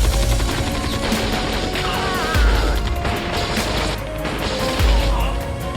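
Soldiers fire on German troops in an ambush as dense, continuous gunfire and crashing impacts with heavy low rumbles. The noise is loud and sustained, and a narrator speaks over it.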